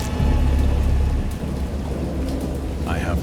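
In the Dagon video game, heavy rain pours steadily over a low thunder rumble, a great storm surrounding a boat, loud and enveloping throughout.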